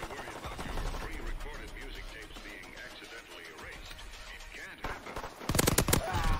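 Gunfire from the World War II shooter game Call of Duty WWII sounds in scattered bursts, with a loud rapid volley near the end, under background game noise and voices.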